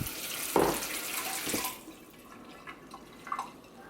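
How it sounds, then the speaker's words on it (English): Water runs and splashes as quinoa is rinsed in a container to wash off its bitter saponins, a brief louder gush near the start that then fades to faint trickles and drips. "So you rinse this out some more."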